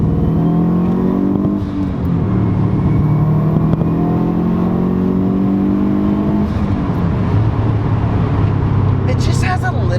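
A Subaru WRX accelerating hard, with a loud interior engine note that climbs in pitch through a gear, drops at a shift, then pulls again, close and continuous for ten seconds.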